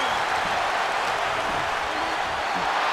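A crowd roaring in a wrestling video game during a cage tag match, a dense, loud, unbroken wash of cheering that holds steady throughout.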